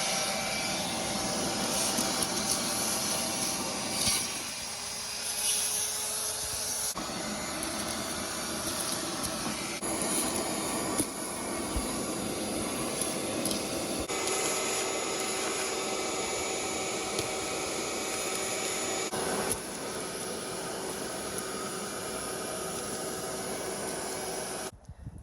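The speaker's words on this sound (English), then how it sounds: "I'm gonna go ahead and try to shop vac this poop out of here" A shop vac runs continuously for a long stretch, a loud steady whooshing roar with shifting suction tones as rat droppings are sucked out of a 6.7 Powerstroke truck.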